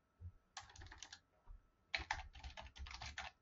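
Rapid clicking keystrokes on a computer keyboard, typed in two bursts with a short pause between, close and clear with no talking.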